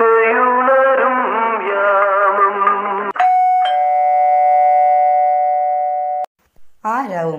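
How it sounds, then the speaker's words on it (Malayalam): A doorbell rings in a Malayalam radio play: a bright chime strikes, then holds a steady ring for about three seconds before cutting off. A voice speaks just before it, and another voice starts briefly after. "ആരാവും ഈ അവധി ദിവസം കയറി വന്ന് മണിയടിക്കുന്നത്?"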